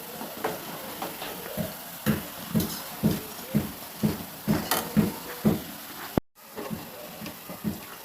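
Purnam burelu (sugilu) lifted out of hot frying oil with a slotted spoon, giving a regular run of close clicking, scraping knocks against the pan under a faint sizzle, broken by a brief dropout, with no voices.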